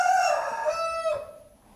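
A hen calls out loudly and close by in one drawn-out, crow-like cry that tapers off after about a second, heard alone with no talking.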